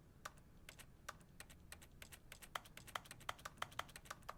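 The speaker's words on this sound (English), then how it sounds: "It sounds like you're tapping away at your computer keyboard." Crisp, faint clicks of computer keyboard keys tap away in an irregular rhythm, the interaction sound effect in The Stanley Parable: Ultra Deluxe on PS5.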